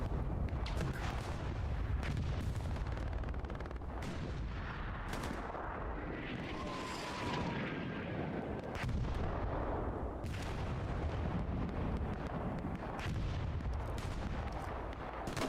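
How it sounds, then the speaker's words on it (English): Rocket artillery strikes in the video game Hell Let Loose rumble continuously in a dense wash of heavy booms and distant gunfire, a loud, sustained battlefield roar with no voices. "Woffin and Noah sending in a couple of rockets to get rid of Deathface."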